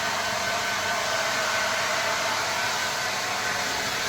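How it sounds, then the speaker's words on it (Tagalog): A hair dryer blows wet hair with a loud, steady broadband whoosh and a faint motor whine, running continuously and up close with no talking. "I-blower natin yung buhok ko kasi"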